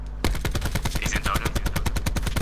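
Loud, rapid automatic gunfire in Call of Duty Black Ops 4 during a competitive match, a fast continuous stream of close shots starting abruptly and running to the end.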